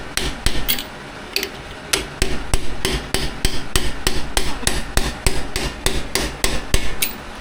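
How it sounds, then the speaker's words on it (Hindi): A new speedometer worm for a Jawa 353 two-stroke is hammered into place through a bit and extension, with a fast run of about twenty loud, close metallic taps in a fairly steady rhythm. "इसे लगा के कोई भी बिट और एक्सटेंशन रख के ना, इसे एक बार सही से ठोक देना"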